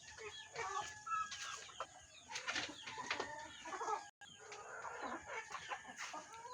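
Several chickens cluck and murmur continuously at moderate distance, overlapping calls forming a busy barnyard chatter with no talking.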